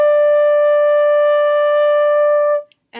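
A flute holds a single long D as a whole note, steady and unwavering for over two seconds before stopping. It is close and fairly loud, alone with no voices.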